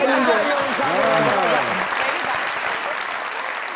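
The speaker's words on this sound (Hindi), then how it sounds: "जरा तालियां" A studio audience at a comedy talk show applauds loudly while people talk over it, and the clapping slowly tapers off.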